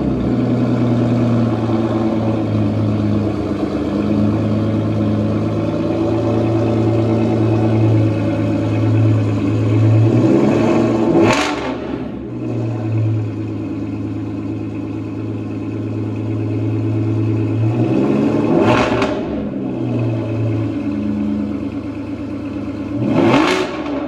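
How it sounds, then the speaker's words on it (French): A rare V600 supercar at a Swiss dealership fires up and settles into a deep, loud idle, then snaps through three sharp revs, each rising and dropping quickly, with no talk over it. "Et je vais vous mettre tout de suite un démarrage de la caisse."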